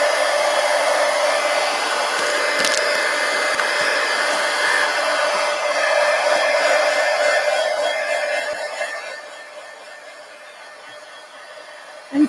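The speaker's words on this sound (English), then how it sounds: "Let me hit that with the heat gun" A heat gun blows steadily over an art journal page to dry wet paint, a continuous, loud airy whoosh that holds for about eight seconds, then drops to a fainter hum before it cuts off.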